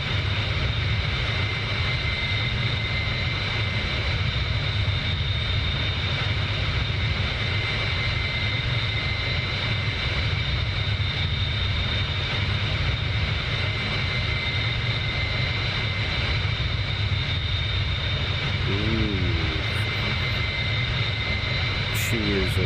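A Bell 47 helicopter's engine in the DCS flight simulator drones steadily and loudly throughout, with a constant rotor-and-engine rumble and a faint higher whine that stays unchanged from start to finish.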